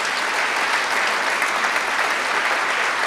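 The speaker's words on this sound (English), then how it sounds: "one of the reasons why we just applauded that anonymous family" A school audience applauds at a State of the School event, a loud, dense, continuous clatter of many hands clapping throughout.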